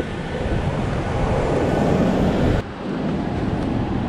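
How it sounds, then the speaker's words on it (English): Strong wind on Santorini buffets the microphone in a loud, roaring rush that drops briefly before gusting again. "very windy."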